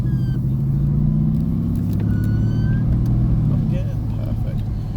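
A Mercedes-AMG GTS with about 500 horsepower pulls away gently on wet roads, a deep, steady low engine rumble close by, with voices talking over it.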